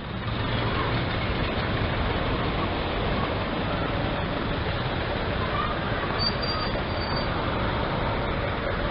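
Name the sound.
train passing by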